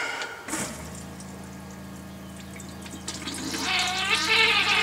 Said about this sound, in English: A little bit down puts water in the bowl.